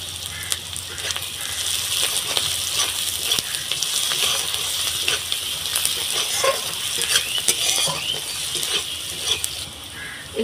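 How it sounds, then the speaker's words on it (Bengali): Onions frying in a pan with salt, a steady bright sizzle broken by scraping stirs of a spoon, close and fairly loud, with no talk over it. "দিয়ে পেঁয়াজটাকে লাল লাল করে ভেজে নেব।"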